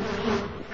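Bees buzz loudly in a video game, a close, steady drone lasting under a second.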